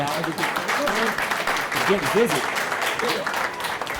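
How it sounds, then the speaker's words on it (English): An audience at a community discussion applauds in a dense, sustained patter that stays fairly loud throughout, with voices and a bit of talk mixed in. "can we have a round of applause"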